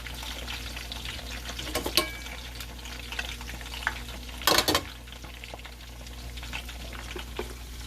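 Cordon bleu deep frying in a 2-quart Salad Master stovetop pan, a low steady bubbling sizzle with a few sharper crackles and spatters, close up and with no talking.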